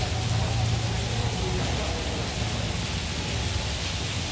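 Steady, dense rain pours down at Vihara Avalokitesvara Watugong, a Buddhist pagoda temple in Semarang, Central Java, a loud even hiss and patter throughout with a low rumble underneath.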